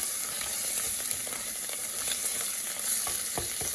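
Ginger sizzles steadily while frying in a pan for Punjabi-style meatball kofta, a dense bright hiss broken by occasional sharper pops and a few stirring scrapes, close and continuous with no voices.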